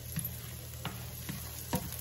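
Onions frying in butter in a pan, a soft steady sizzle with a few light clicks of stirring or utensil taps at the start, middle and end.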